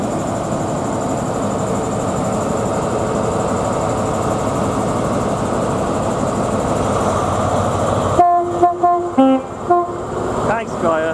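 A Class 43 HST train departing London King's Cross for Aberdeen: a steady loud engine roar runs for about eight seconds, then cuts out abruptly to leave quieter, intermittent tonal sounds.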